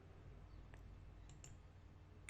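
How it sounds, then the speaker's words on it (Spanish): A computer mouse right-click during Excel spreadsheet work: a couple of faint, sharp clicks over a steady low hum, with no one talking. "Enseguida hago clic derecho sobre lo seleccionado y me voy a la opción que dice insertar."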